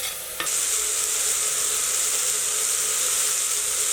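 Tomatoes sautéing in a hot pan for cow pea rice give a loud, steady sizzle with stirring, close and continuous after a brief quieter start, with no voices.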